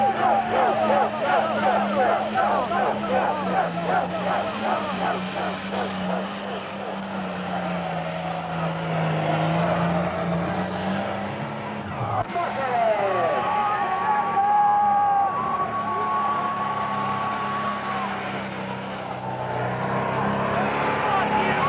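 A heavy super stock diesel pulling tractor at an Eaton, Ohio tractor pull in 2003 drones loudly and steadily, its engine pitch climbing near the middle, while an announcer talks over it throughout.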